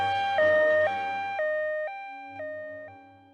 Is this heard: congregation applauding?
no